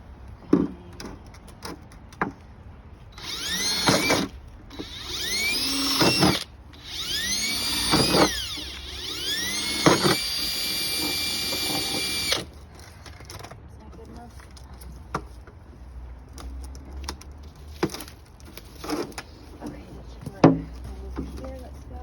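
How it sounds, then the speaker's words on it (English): A power drill bores into the side of a maple tree to tap sap, whining in several close bursts that spin up and wind down. Quieter handling noises and intermittent talk follow. "I think I'm going to drill this one into the side of this one."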